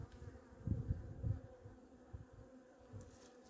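Low, soft humming of honey bees from an open hive with brood but few bees, during a winter check, with a few louder buzzing swells close by and quiet handling noises.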